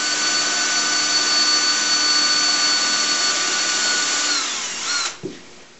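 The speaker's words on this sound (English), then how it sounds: "drill out the pilot hole." A power drill whines steadily at high speed while boring a pilot hole in wood for a sea chest, then spins down and stops near the end, close and loud with no voices.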